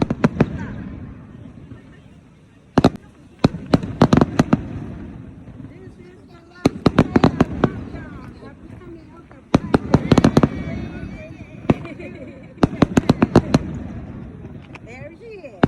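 A fireworks show in Kameoka, Japan, with clusters of sharp cracking bursts and booming explosions in repeated volleys, separated by brief pauses, while voices from the crowd are heard in between.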